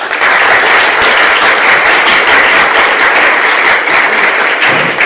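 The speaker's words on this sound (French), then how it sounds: "je voudrais bien que vous allez vous applaudir vous-même." An audience applauding itself at a gathering: loud, dense, steady clapping from many hands filling the whole stretch without pause.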